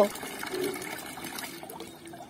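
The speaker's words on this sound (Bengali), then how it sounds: "বারবার করে জলটা নিয়ে জল ঘাটতে শুরু করে দেয়" Tap water runs and splashes as a child dabbles in it at a faucet, a soft continuous trickle with light splashing, fairly faint and close, with a voice speaking briefly over it.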